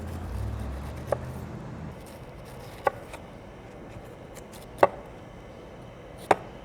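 Knife cutting the spiny edges off a pineapple for a poke bowl, four sharp isolated chops on a board spaced about two seconds apart over a quiet background.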